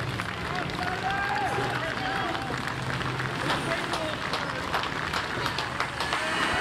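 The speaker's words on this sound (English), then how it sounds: "Polite applause from stewards past the judges' box" Polite applause from stewards at the Henley rowing regatta as crews pass the judges' box, scattered clapping and crowd noise under steady commentary that runs throughout.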